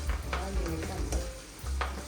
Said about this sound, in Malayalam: എൻ്റെ വക കരിയാപ്പില ഞാൻ വിട്ട് ഇളക്കാം